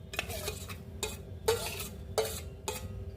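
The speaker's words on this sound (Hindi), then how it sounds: "अब हम इसमें अदरक और लहसुन भी डाल देते हैं।" Ginger and garlic paste frying in a pan for a paneer curry, stirred with a utensil in repeated scraping strokes about every half second, with a steady soft sizzle underneath and no talk.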